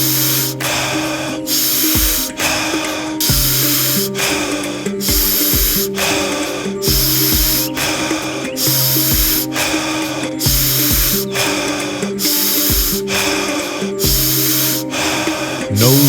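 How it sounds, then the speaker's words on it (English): Wim Hof power breathing, in and out through the mouth: loud, close breathing with forceful hissing breaths in a steady rhythm, about a dozen breath cycles at roughly one per second and a bit, with no talking. "In through the mouth and out through the mouth."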